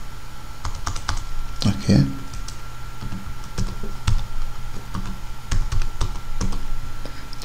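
Steady computer keyboard typing as an email and password are entered, quick clicking keystrokes close and clear with a short spoken word at the start.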